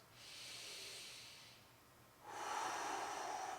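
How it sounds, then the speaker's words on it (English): Deep breathing during a yoga stretch: a slow, airy inhale, a short pause, then a louder, rushing exhale, both close and soft, with no talking. "big inhale, big exhale"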